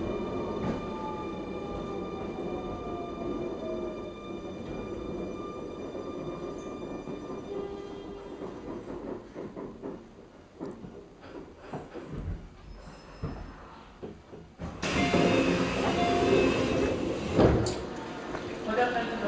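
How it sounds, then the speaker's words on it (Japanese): A Keio Line 9000 series local train rumbles along between Tama Center and Wakabadai, with rising motor whine, wheel noise and clatter from inside the car, then a louder burst near the end, with an announcement voice over it. "この列車は車庫に入る回送電車となります。"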